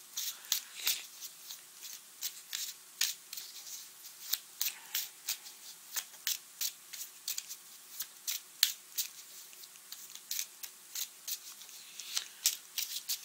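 Tarot cards are shuffled by hand in a quiet room, a long run of quick, crisp riffling slaps and flicks arriving in irregular bursts, close and clear with no talking.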